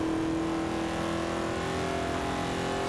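A classic three-speed car's engine in the racing game Forza Horizon 2, a steady loud droning hum with a strong tonal whine, held at constant revs with no talk.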